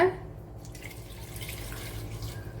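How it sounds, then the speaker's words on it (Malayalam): Water is poured from a vessel into a pressure cooker holding cut beetroot and drumstick pieces, a soft steady splashing trickle that stays close and fairly quiet for a couple of seconds. "വെള്ളം ഒഴിച്ചു കൊടുക്കുക"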